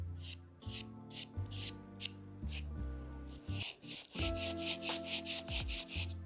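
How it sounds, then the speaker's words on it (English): Foam model airplane edges being sanded by hand, a steady scratchy rubbing in repeated strokes, close and fairly quiet over a faint low hum. "So just the uneven edges are to be sanded."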